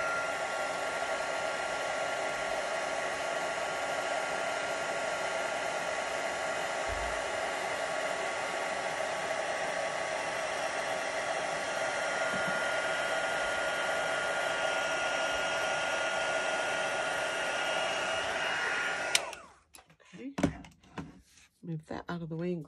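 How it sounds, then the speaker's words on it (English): An embossing heat tool blows hot air steadily and close for about nineteen seconds while melting embossing powder on a Stampin' Up! card, then cuts off, leaving a few soft knocks and handling sounds. "Let's use the heat tool again. It's nice and heated up so it won't take so long to melt."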